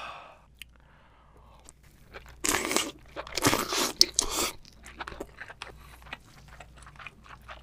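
Someone eats a 5 kg king crab up close, with loud cracking and crunching bites followed by wet chewing sounds, and no talk.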